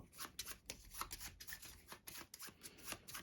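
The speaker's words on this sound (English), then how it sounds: "These you need to shuffle up." Board game tiles and cards for the Deckers game being shuffled by hand on a table, a continuous close, clattering riffle of rapid soft clicks and slides with no talking.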